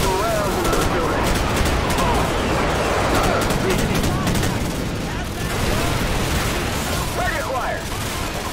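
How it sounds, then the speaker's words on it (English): Sustained heavy gunfire rakes a building in Call of Duty 4: Modern Warfare, a continuous loud barrage of rapid shots with booms mixed in, while voices shout over the battle. "We're gonna get some rounds into the building."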